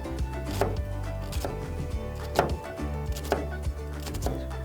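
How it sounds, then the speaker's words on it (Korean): Knife pull-slicing an onion thinly on a cutting board, a slow, steady series of crisp chopping taps close by with no talking. "천천히 얇게 당겨 썰어 주시면 됩니다."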